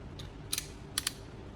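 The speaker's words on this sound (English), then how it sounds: "I'm carefully unscrewing the plastic cover to reveal the internal LED components" A plastic cover is unscrewed from an LED light bulb, producing a few faint, crisp clicking ratchets in quick pairs against quiet background, with no talking.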